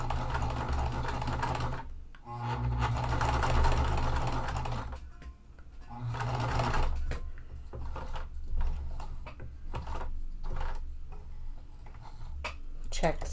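A sewing machine stitches across a fabric wallet in quick runs of rapid ticking, pausing between passes with a few slower single stitches, close and clear with a voice talking briefly.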